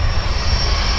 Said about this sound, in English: It is the Firestore jet car.